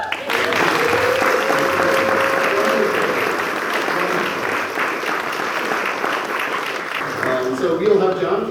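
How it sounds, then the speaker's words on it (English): Sustained audience applause fills a benefit concert hall for over eight seconds, steady and dense throughout, with a few voices and a faint tone rising near the end as it begins to fade. "Let's give another round of applause."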